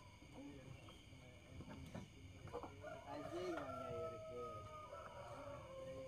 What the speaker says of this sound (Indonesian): ayam berkokok malam-malam ada sesuatu